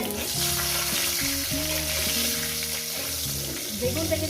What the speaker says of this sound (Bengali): বেগুনটাকে দিয়ে আরও আমি 4-5 মিনিট ভেজে নেবো